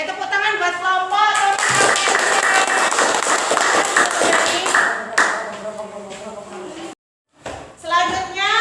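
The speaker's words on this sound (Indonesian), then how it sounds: "Saya tepuk tangan buat kelompok" A classroom claps for a group of students, a burst of applause mixed with voices and talking before and after, then a brief silence and more speech.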